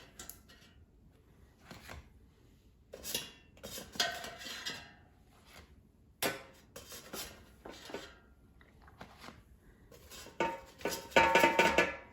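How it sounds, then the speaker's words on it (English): Crescent-roll-wrapped fried Oreos come out of an air fryer, with scattered scrapes, clinks and rubbing of a utensil against the metal basket. Quiet pauses separate the sounds, and a busier clatter comes near the end. "Let me take it out of the air fryer."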